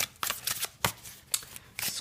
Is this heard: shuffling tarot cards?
yes